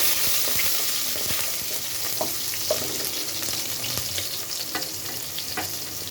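Onion dropped into hot oil in a pan, giving a loud, steady, dense sizzle that hisses continuously with small crackles and no talking.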